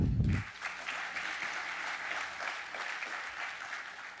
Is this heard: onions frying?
no